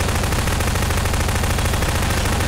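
Continuous rapid automatic gunfire from Garry's Mod, loud, dense and unbroken, with no speech over it.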